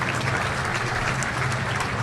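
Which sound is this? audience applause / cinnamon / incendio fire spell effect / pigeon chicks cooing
audience applause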